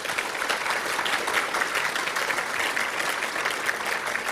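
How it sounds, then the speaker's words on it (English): Large audience at a state Australian of the Year awards ceremony giving sustained applause, a thick even roar of many hands clapping at once, loud and continuous with no talk over it. "Another round of applause."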